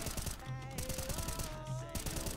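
Rapid automatic gunfire in a first-person shooter video game, a steady fast rattle of shots with recoil held under control, fairly quiet and continuous throughout.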